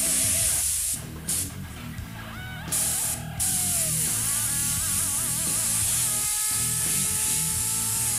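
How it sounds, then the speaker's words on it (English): An airbrush sprays paint in a continuous close hiss, cut by short pauses as the trigger releases, while faint tonal sounds drift in behind it. "Remember to come back in with the airbrush and soften up those lines."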